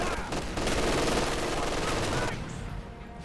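Sustained M1919 machine gun fire rattles in Company of Heroes 2, a dense continuous burst lasting over two seconds before cutting off into quieter battlefield ambience.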